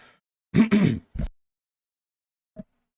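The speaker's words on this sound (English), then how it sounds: "let me clear my throat" Someone clears their throat up close in a few rough, gravelly bursts, then a short faint grunt after a pause of silence.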